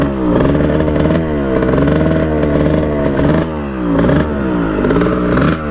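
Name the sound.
1989 Kawasaki KX125 dirt bike engine running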